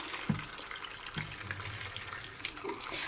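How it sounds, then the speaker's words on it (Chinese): Boiling water pours into a pot of pig trotters with cinnamon, star anise, bay leaves and ginger, a steady splashing, gurgling stream with a few clinks, heard close and fairly quiet. "然后加入开水"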